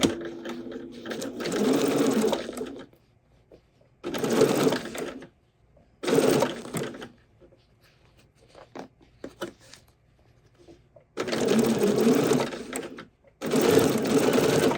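A sewing machine fitted with a gathering foot stitches fabric in several loud, close bursts of rapid whirring, separated by short quiet pauses.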